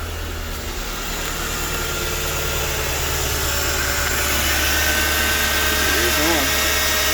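A 2009 Mercedes-Benz S550 4Matic (W221) with a newly replaced secondary air pump idles after a cold start, a steady, close engine hum and vibration with a brief low voice near the end.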